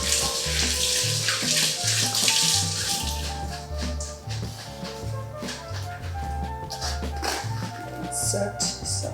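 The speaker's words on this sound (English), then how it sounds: "Give this a nice rinse." Bean sprouts get rinsed under a running kitchen tap, a continuous close splash of water with light rattling as they are handled, while someone talks over it.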